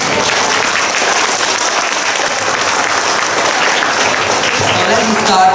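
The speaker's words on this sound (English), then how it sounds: "Can I have a big applause, please?" Loud, sustained applause fills a hall as an audience claps for a presentation on an investment project for an international school, a dense, even roar of many hands with crowd murmur mixed in.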